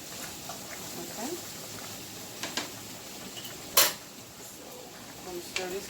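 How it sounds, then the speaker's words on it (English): A utensil stirs spaghetti in a cooking pot, giving a few scattered metallic clinks and scrapes against low kitchen background noise. "Stir this pasta."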